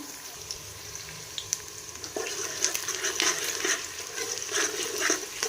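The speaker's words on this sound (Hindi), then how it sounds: "तो प्याज को हम अच्छे से कर लेंगे ब्राउन।" Onions frying in oil for keema, a soft, steady sizzle that grows louder partway through, with stirring clicks and scrapes of a spoon against the pan.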